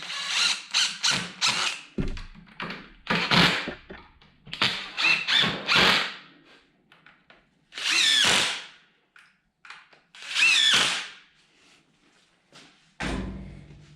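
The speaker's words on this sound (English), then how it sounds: "So go ahead and run some screws in here." A power drill drives screws into the wooden corners of a shaker box sifter, with several loud whirring bursts of varying length separated by short pauses, close up.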